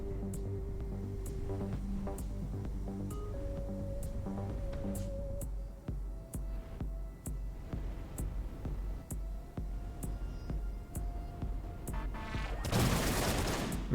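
Repeated gunfire from ship weapons in the space shooter game Everspace 2, a steady run of sharp shots over a droning game soundtrack, ending in a loud burst of noise.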